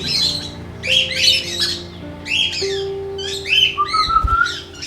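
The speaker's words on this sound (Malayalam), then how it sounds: "ഇതാട്ടോ ആഫ്രിക്കൻ ലവ് ബേർഡ്സ്." African lovebirds in an aviary give loud, harsh squawks and chirps in repeated bursts, several birds calling close by over a faint steady background hum.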